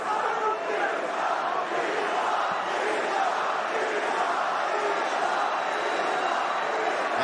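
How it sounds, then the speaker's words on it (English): Arena crowd chanting throughout a UFC 322 bout between Islam Makhachev and Jack Della Maddalena, a steady, loud roar of massed voices that never lets up. "Khabib is cheerleading the crowd as the Islam chants rain down"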